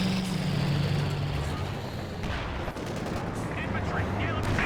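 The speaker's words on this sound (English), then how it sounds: "King Tiger gets a deadly shot on those rear echelons" A King Tiger tank fires in the Company of Heroes 2 video game: a loud, heavy cannon boom at the start, followed by rumbling battle noise and scattered distant impacts.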